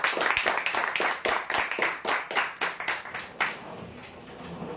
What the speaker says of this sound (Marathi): जोरदार टाळ्या होऊ द्या यांच्यासाठी